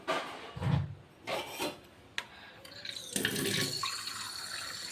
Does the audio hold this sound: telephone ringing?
no